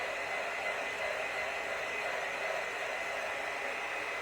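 A hair dryer blows steadily to dry a fresh layer of paint, giving a continuous, even rushing whoosh at close range with no breaks or talk.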